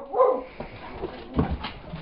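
A dog growls and gives short barks and whimpering yips while chasing another dog, heard at moderate volume with a brief sharp outburst near the start and another midway.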